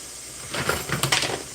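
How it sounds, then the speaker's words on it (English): Water runs from a kitchen tap in a steady broadband rush with some clinking splashes, up close and fairly loud, with no talking. "It's just when I have this water running, it be really"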